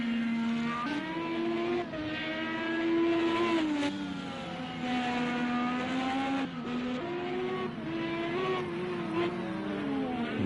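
A Chevy-powered IndyCar in a racing game works through the Laguna Seca corkscrew, its engine note loud and close as it rises and falls with repeated shifts and revs.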